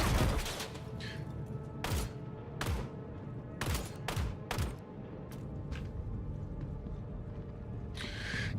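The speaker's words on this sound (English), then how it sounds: "Bro, these guys are freaking grenade happy." Grenade blasts and bursts of gunfire in the Star Citizen shooter, with several sharp, loud explosive hits spaced through the stretch and scattered shots over a steady battle din.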